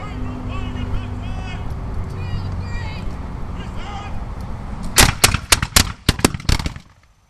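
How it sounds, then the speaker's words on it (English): Muskets fired by soldiers skirmishing at Fort York, about seven sharp cracks in quick irregular succession near the end. Before them comes a stretch of crowd noise with voices. "Our soldiers today right now are firing independently as skirmishers."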